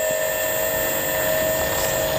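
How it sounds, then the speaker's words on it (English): A small airplane engine drones steadily as the plane takes off, a loud continuous whine with strong tonal hum throughout, no voices. "The squirrel, it's taken off in the plane."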